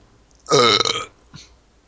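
A single loud, croaky burp lasting about half a second, heard close up in a quiet room and followed by a faint short noise.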